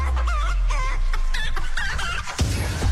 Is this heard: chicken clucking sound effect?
yes